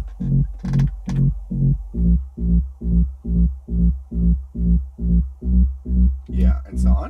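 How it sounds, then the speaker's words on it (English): A deep offbeat sub bassline from a synthesizer pulses in an even, steady rhythm of rounded throbbing notes, loud and alone, with brief higher clicks at the start and end. "Very first bassline layer sounds like this. It's the offbeat sub deep bassline."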